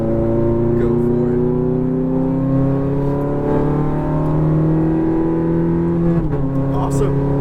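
A Ferrari F430 engine pulls under throttle from inside the car, with a rising whining drone that climbs in pitch, dips briefly near the end, and carries on, while an instructor talks over it.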